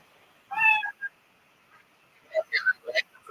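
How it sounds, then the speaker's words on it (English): Cat meowing, one clear drawn-out meow up close followed by a short chirp, then a quick burst of several more meows and trills near the end against a quiet background. "You know the sound of the kitty."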